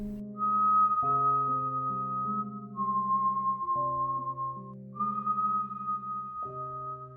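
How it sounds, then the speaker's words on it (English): Two distinct whistles calling and answering each other across the night air, clear melodic phrases trading back and forth in a steady alternating pattern, close and alone without any voices. "two distinct whistles, calling and answering each other across the night air"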